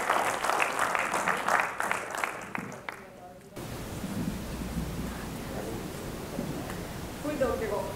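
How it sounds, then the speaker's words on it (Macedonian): Audience applause at a children's forum theatre performance, a dense wash of clapping that fades into a quieter, noisy background, with scattered voices near the end. "Еден аплауз за вршењето на мразот."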